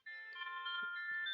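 A smartphone notification tone sounds as a payment message arrives, a clear sustained melodic chime that rings alone at moderate loudness for about a second.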